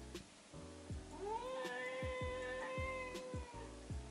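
A cat meows several times in rising, drawn-out calls close by, set against rhythmic thumping background noise with no talking.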